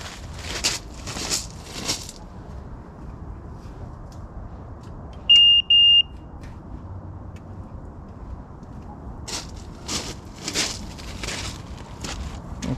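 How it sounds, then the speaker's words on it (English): One short, clear electronic beep sounds when power is restored to a home-built driveway lighting controller, amid quiet rustling and handling noises. "You should hear a beep"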